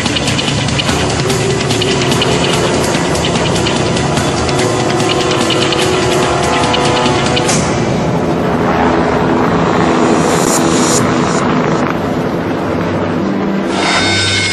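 Helicopter hovering over the Potomac River during the rescue after the Air Florida Flight 90 crash, a loud continuous rotor and engine roar with wind buffeting, no voices.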